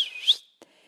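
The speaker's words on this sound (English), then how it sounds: "Aurora whistled her special bug comm whistle." A single short, high whistle, used as a special call to summon bugs, rises and fades, followed by a faint soft tap and then quiet.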